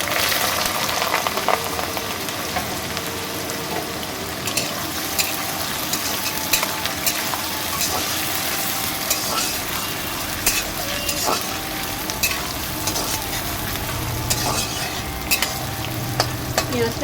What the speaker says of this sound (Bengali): পেঁয়াজটা ভেজে নিই